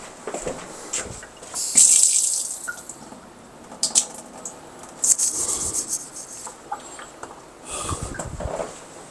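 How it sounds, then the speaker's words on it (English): A kitchen water tap is opened after the whole-house supply has been shut off for a filter change, giving uneven hissing, sputtering and dripping bursts rather than a steady flow. "So let me open the water in the kitchen."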